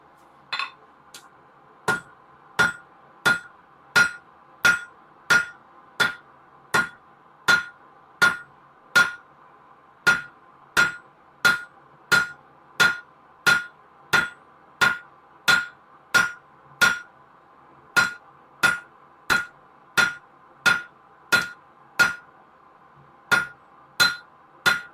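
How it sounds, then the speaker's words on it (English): Steady, evenly spaced hammer blows ring out on a piece of steel as a blacksmith squares it off at the forge, about thirty sharp metallic strikes over the stretch with a brief pause partway through. "is going to be squaring off this piece of steel."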